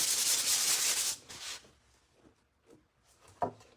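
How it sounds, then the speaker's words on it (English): A sander hisses steadily at close range for about a second, gives a short second burst, then stops, leaving soft handling clicks and a knock. "do a little more sanding"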